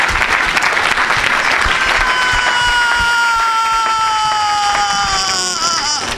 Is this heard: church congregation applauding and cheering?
yes